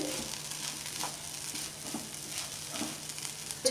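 Green pigeon pea kachori filling cooks covered in a pan over very low gas, giving a soft, steady sizzle with faint crackles. It sounds close and quiet, and a small clatter comes at the end.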